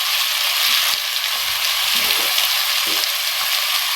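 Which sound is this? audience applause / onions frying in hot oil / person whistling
onions frying in hot oil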